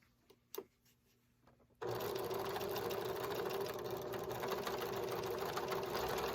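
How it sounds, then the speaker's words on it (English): A sewing machine stitches bias binding strips together for a quilt, running in one steady, loud continuous whir after a few faint handling clicks at the start. "And you just keep sewing them all together."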